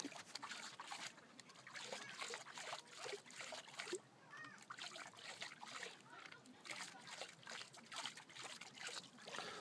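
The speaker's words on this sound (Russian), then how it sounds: "необходимо залить 1/3 объема водой. Сейчас мы это и сделаем." Water trickles and splashes steadily into an old Soviet toy water rocket, filling it a third full, faint and continuous with some sloshing.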